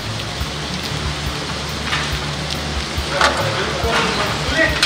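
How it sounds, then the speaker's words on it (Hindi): Heavy downpour in Islamabad driven by gusty storm winds, a steady broadband rain hiss with occasional louder splashes and gusts, continuous and fairly close throughout. "चंद ही मिनटों बाद तूफानी हवाओं के साथ मूसलाधार बारिश ने जल थल एक कर दिया।"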